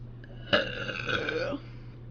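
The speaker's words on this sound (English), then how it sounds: "That was the grossest burp of my entire life" A single long, loud, gravelly burp from a woman, close up and lasting about a second before trailing off, with room hum underneath and no talking.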